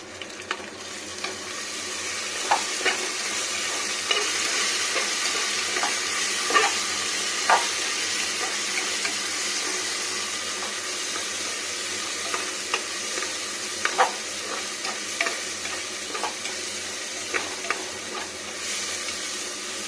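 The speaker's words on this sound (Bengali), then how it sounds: "এবার সুন্দর করে ভাজা ভাজা করবো।" Moong dal dry-roasted in a pan for vegetarian khichuri, a soft continuous sizzling hiss punctuated by regular scraping clicks of a spatulа stirring the lentils, close and unaccompanied by speech.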